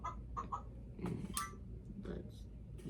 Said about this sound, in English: Turn the dial to find the animal that likes to cluck.